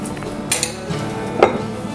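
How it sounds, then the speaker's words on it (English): A spoon scrapes sticky bread dough from the edges of a bowl in a home kitchen, making a few sharp clinks and scraping knocks, with two distinct louder strikes apart over a low background. "And with the help of a spoon, just scrape it out from the edges."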